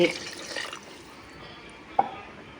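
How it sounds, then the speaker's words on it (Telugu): Water splashes briefly into a cooking pot at the start, then a quieter stretch follows with a single soft knock near the end; a voice talks faintly underneath. "ముందుగా కొంచెం నీళ్ళు పోసేసి"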